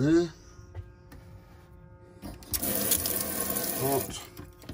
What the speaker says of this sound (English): Let's put the water pump on again there.